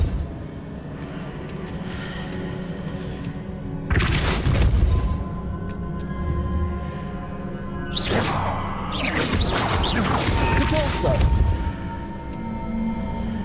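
Depulso spell cast in the video game Hogwarts Legacy, two loud booming bursts with whooshing force, one around the four-second mark and a denser cluster a few seconds later, over a steady game background hum.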